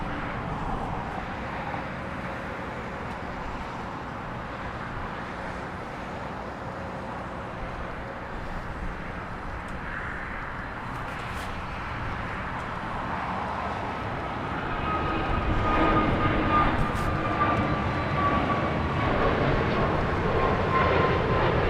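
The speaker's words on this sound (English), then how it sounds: "we have an A321 XLR taking off like right now" An Airbus A321XLR airliner taking off at LAX, a steady broadband jet engine roar that swells louder in the final seconds as the aircraft climbs, with no talk over it.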